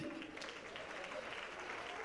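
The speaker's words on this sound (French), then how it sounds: "Ce que tu dois faire, on applaudit." Audience clapping at a live stand-up comedy show, a dense and steady wash of applause that holds at an even level for about two seconds.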